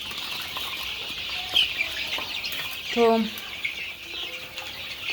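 Chickens cluck and squawk close by while fighting over feed, amid a faint background hiss, with a brief voice speaking once.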